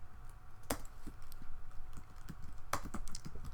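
Keys on a computer keyboard are tapped at a moderate pace during programming, soft close clicks with a couple of sharper louder keystrokes, no talking.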